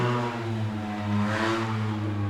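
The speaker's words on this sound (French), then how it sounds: "Encore une moto." A motorcycle goes by outdoors, its droning engine tone swelling as it draws nearest midway, then easing off slightly, moderately close and heard alone.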